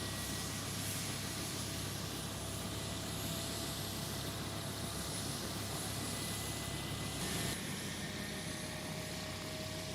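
A small aircraft's engine drones continuously and loudly throughout a low aerial tour over the remote atoll of Nikumaroro, a dense steady roar with a constant propeller-like hum and no voices.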